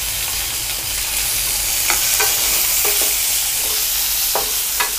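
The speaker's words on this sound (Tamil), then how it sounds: "இப்போ இது கூட வந்து நம்ம தக்காளி, கொஞ்சமாக அந்த சின்ன வெங்காயத்தையும் நம்ம போட்டு வதக்கிக்கலாம்" Tomatoes and small shallots sautéing in a hot pan for moong dal sambar, a loud continuous sizzle broken by several sharp scraping clicks of a spoon stirring against the pan.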